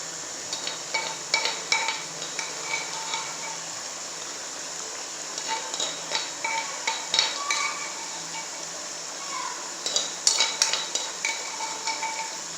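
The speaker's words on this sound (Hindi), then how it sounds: "लहसुन अदरक को भी आपने अच्छे से पकाना है।" Garlic-ginger paste sizzling gently in a pan while a utensil repeatedly scrapes and taps the metal in an uneven rhythm, close and moderately loud.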